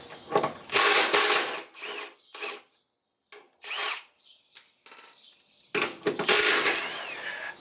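An air or power tool on a Ford Mustang rear subframe works the front mount bolts in several loud, close bursts of whirring and ratcheting, separated by short silences.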